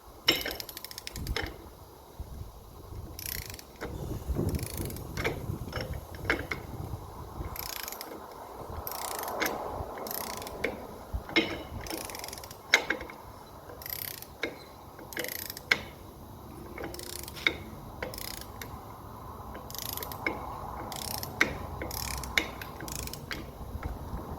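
A wrench works the hub nut on a Peterbilt 352 truck, making intermittent ratcheting clicks in irregular bursts with metallic clanks between them, close and moderately quiet.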